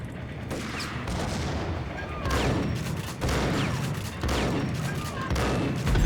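Repeated shotgun blasts from the Max Payne video game ring out in a steel factory shootout, heavy booming shots arriving every second or so amid a dense, continuous clatter of gunfire.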